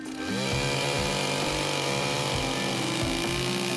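A chainsaw roars steadily at close range, its engine pitch dipping and surging as the blade bites into wood.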